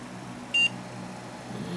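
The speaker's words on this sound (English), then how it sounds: "Beep." A computer gives one short, clear electronic beep as it powers up, brief and bright over a faint background hum.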